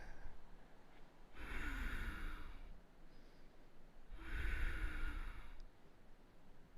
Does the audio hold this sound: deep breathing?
yes